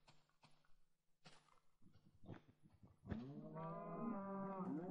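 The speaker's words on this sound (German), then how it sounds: "Genau, da haben wir die Kühe." Cows moo in Minecraft, a quiet, drawn-out bovine low that swells and holds for about two seconds, preceded by a few soft, scattered clip-clop steps and thumps.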